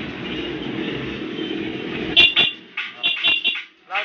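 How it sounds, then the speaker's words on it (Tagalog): The horn of a Kawasaki Ninja 250 motorcycle gives a series of short, sharp toots close by, following a steady idling engine noise. "Horn."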